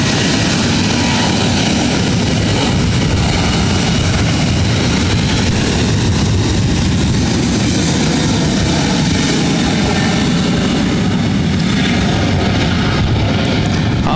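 A loud, steady roar of an airliner taking off at LAX, sustained broadband engine noise with a constant rumble throughout and no talk.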